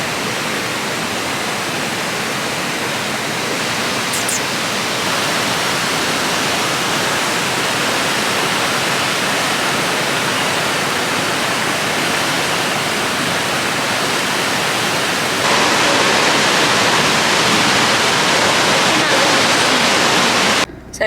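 Queen Mary Falls near Killarney, Queensland, roars as a steady, loud broadband wash of falling water that continues throughout.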